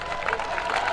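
Audience applause and cheering at a Dutch pole vault championship, a steady, fairly loud wash of clapping from the crowd throughout the brief moment, with no distinct voices standing out.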